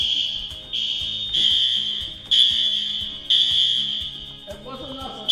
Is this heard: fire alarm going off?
yes